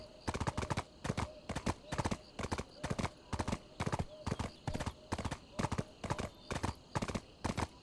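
Horse hooves clip-clop steadily at a riding pace in a video game set in Seoul, with regular, evenly spaced hoof falls up close, loud throughout, and a brief whinny.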